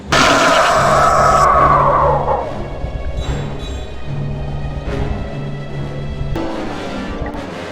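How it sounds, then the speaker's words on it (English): The flying car screeches loudly to a halt in the Harry Potter and the Chamber of Secrets PS1 game, a sharp tire squeal over engine noise. It fades after two seconds into a lower idling hum with a door-like thump near the end. "The car screeched to a halt"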